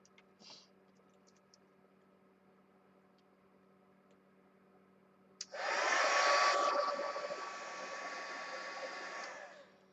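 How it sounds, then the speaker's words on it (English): A heat gun switches on partway through and blows hot air over a napkin craft piece, a loud steady whirring roar after a quiet stretch, with no talk. "Heat gun."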